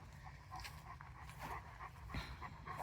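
Cane Corso puppies pant softly at close range in a quiet outdoor farm setting, a steady, faint breathy rhythm with no talking.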